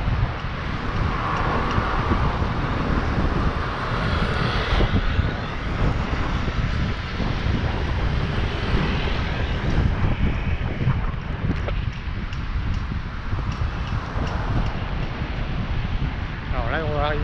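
Strong wind buffets the microphone on a winter day in Da Nang, a constant low roar and rumble with a voice faintly underneath.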